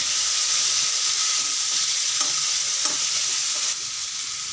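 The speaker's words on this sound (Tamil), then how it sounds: "வெங்காயம் போட்டுக்கலாங்க வெங்காயம் ஒரு நிமிஷம் அடிக்கிறாங்க" Onions frying in a pan for a Tamil manathakkali greens kootu, stirred steadily, with a loud continuous sizzle and faint scraping strokes throughout and no talking.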